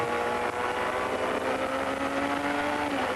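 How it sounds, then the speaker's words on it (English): A 1987 Formula 1 car's engine screams at high, steady revs on a sweeping right-hander onto the main straight, loud and close throughout with a continuous whine and no talking. "The gear changes you hear are those of De Cesaris in our camera car"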